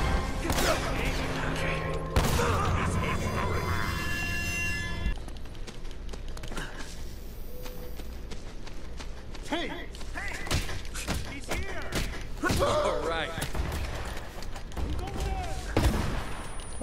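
Rapid bursts of gunfire rattle loudly in the Uncharted: Drake's Fortune action game, with dense volleys early on. Scattered shots, thumps and clatter continue over a constant background of combat sound.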